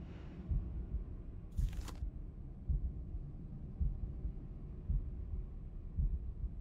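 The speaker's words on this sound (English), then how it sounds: "Why do we got a heartbeat?" Steady heartbeat thumps in the puzzle video game The Room, a regular low throbbing pulse repeating about once per second under a quiet hum, with one brief brighter sweep partway through and no talking.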